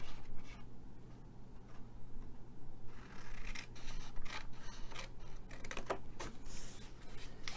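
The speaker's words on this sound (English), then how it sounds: "for cutting this, we are going to cut this long strip up" Scissors snip through a long strip of milk carton, giving several close, crisp cutting crunches with a soft scrape of rubbing and handling between the cuts.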